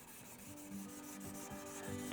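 Fine 2000 grit wet and dry paper rubs along an acoustic guitar neck in quick, soft back-and-forth strokes, close and quiet with no talking.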